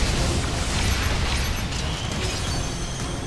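A thrown bomb explodes in the video game The Last Story, a loud, dense blast with rumbling debris that fills the whole stretch without a break, and no talk over it.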